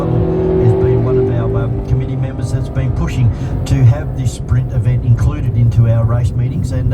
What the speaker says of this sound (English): then you've got something like the R33 Nissan going up through the turn 4 just in front of the saloon car